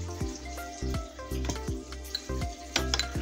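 Spoon strokes stirring chili sauce through a wet mixture, a series of squishy, slapping thuds at an uneven rhythm, close and fairly loud, with light sizzling between them.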